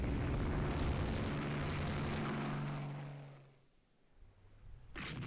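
Torpedo bombers drone in a naval warfare game as aircraft engines roar loud and steady, then the noise fades to near quiet before a sharp new burst near the end.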